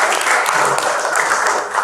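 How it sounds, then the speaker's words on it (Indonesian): Classroom applause for a student's answer during a teaching session, a dense burst of many hands clapping together, close and loud, holding steady for the whole moment. "Tepuk tangan buat jawabannya Said."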